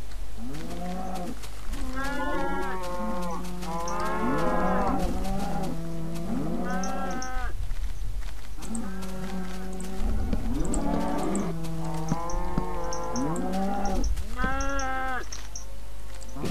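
Cows mooing in the video game Minecraft, a steady run of repeated low drawn-out moos overlapping one another, fairly loud and close, with a constant low hum underneath.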